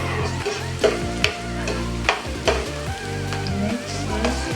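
Ginger frying in hot oil in a heated kawali for a Filipino chicken curry: a loud, continuous close sizzle with sharp bursts and clatter as it is stirred.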